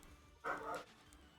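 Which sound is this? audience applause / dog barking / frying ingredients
dog barking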